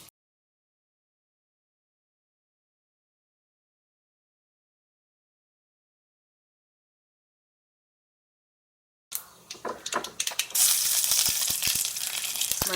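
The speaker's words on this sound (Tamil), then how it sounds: "கடுகு ஆட் பண்ணிக்கோங்க, கருவேப்பிலை, மிளகாய்." Mustard seeds, curry leaves and chilies hit hot oil for a tomato rasam tempering, bursting into a loud, crackling sizzle after a long silence and holding steady with sharp pops over the last few seconds.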